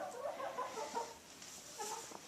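Hens cluck softly and intermittently in a barn winter setup, quiet, close-ish murmuring calls with no talk.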